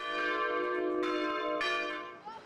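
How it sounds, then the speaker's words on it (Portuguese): A church bell rings before the evening mass, with two clear strikes whose resonant, ringing tones hang and decay between blows, loud and close with no voices. "O sino só toca antes da missa das 6 horas da tarde."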